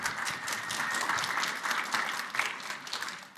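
An audience at a LibertyCon International event breaks into dense, sustained applause, with many hands clapping steadily and no speech over it.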